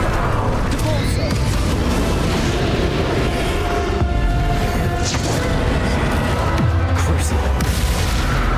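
A Depulso spell from Hogwarts Legacy releases a booming blast, a dense burst over a continuous layer of game effects and rumbling background sound.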